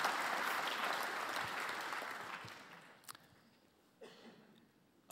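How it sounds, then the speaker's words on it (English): Audience applause at a university alumni awards ceremony fills the hall, a broad steady clatter of many hands that gradually fades, leaving a few scattered claps and small room noises near the end. "please join me in applauding him for his achievements"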